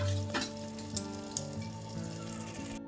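Paneer cubes added to a pan of frying mixed vegetable pulao, a steady oily sizzle with a couple of sharp clicks from the spoon and a faint tonal hum underneath.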